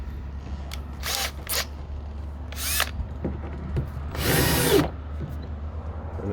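A power drill drives screws into a Polylok riser on a FujiClean CE5 septic tank, with three or four short whirring bursts, the last one longest, close and loud.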